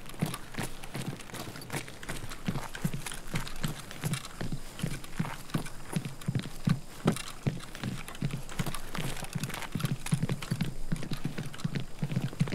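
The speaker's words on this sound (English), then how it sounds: "Oh, I hear footsteps." Footsteps thud in the Escape from Tarkov shooter game, a fast, steady run of muffled steps that continues unbroken through the whole stretch at a moderate level, with no talk over it.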